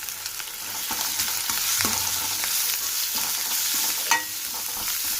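Grated carrot mixture frying in a pan, a dense continuous sizzle with intermittent stirring scrapes and a sharper clink near the end, close and moderately loud with no talking.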